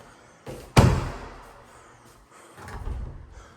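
Closet doors in a new Pulte home in Queen Creek, Arizona, slide and bang as one is pulled open with a sharp knock, then a softer rumble as another door moves, close and fairly loud.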